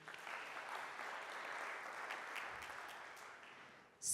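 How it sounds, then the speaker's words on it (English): Audience applause at a university career fair panel, a steady wash of clapping that holds for several seconds at moderate distance before a brief louder burst at the end. "Let's clap for him."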